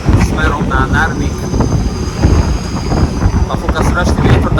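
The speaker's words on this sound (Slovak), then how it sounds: "A fúka strašný vietor" Strong wind roars in a steady broadband rush near a ferry crossing toward Narvik in Arctic Norway, buffeting the microphone throughout while a person talks over it.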